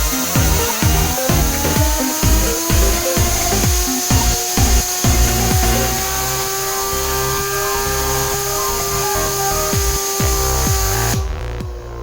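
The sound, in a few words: spinner spun up by compressed air from a modified compressor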